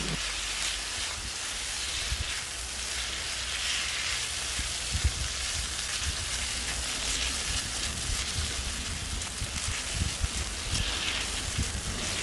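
Fried pork liver sizzles in a pan while fried garlic is stirred in. The crackling hiss stays loud and steady, with small pops and no talking.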